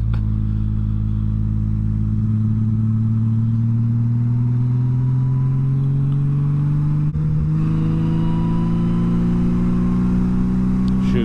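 A motorcycle engine accelerates steadily on the road, its low drone rising smoothly in pitch over about ten seconds, loud and close with constant wind rush.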